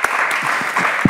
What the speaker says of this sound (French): j'ai quand même envie de dire bravo et qu'on vous applaudisse.